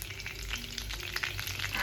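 Curry leaves and cumin frying in hot oil in a home kitchen, a close, loud crackling sizzle with sharp pops and spitting bursts throughout.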